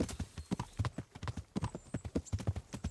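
Horse hooves clip-clopping on the ground while riding in Kingdom Come: Deliverance, a brisk, steady rhythm of distinct close hoofbeats that continues without a break.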